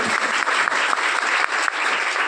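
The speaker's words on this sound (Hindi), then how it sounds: "जबरदस्त होस्टिंग और इतनी वंडरफुल ऑडियंस के लिए एक बार शानदार वाली क्लैपिंग हो जाए" A hall audience gives steady, enthusiastic applause at a speech event in Neemuch, dense clapping holding close and loud throughout with no voices on top.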